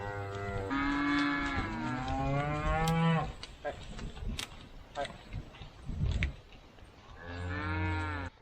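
Cattle mooing in a pasture on a farm: several long, loud, close moos, one after another, with a gap of rustling and scattered noise between them before the last call.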